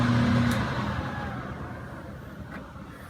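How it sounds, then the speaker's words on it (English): An Asiet Air 7710 PCO air filtration machine runs with a steady, broadband whooshing hum, fairly loud and close, easing slightly after a brief tonal whine at the start. "You can hear the noise level of the machine."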